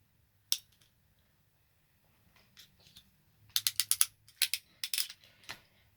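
Sharp, close mechanical clicks and snaps from a crimping tool squeezing a blue spade terminal onto a folded-over wire end for a DIY car alarm, a lone click first, then a quick burst of several crunchy clicks.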